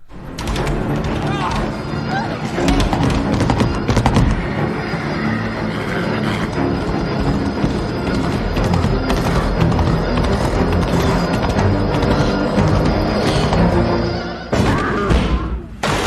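Horses on a film soundtrack, a loud continuous mix of hoof clip-clop and thumping, with whinnies and voices talking over it before a brief drop near the end.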